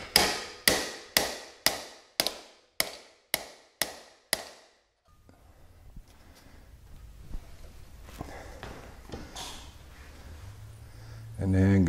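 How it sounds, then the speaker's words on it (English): A hammer taps on a vise grip holding a wooden post for a nautical piling, giving eight evenly spaced ringing metallic strikes up close. A quieter stretch of handling noise and rustling follows. "I'm gonna just tap on the vise grip."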